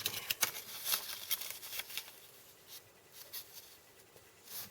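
Paper is creased and folded by hand for a Christmas pop-up card, with soft, close crinkles and quick rustling taps that thin out toward the end.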